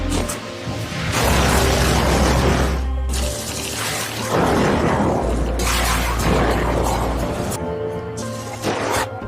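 A sniper round strikes and explodes a Taliban oil drum in a combat scene: loud, broad booming blasts with crashing debris come in several waves over a steady low droning bed.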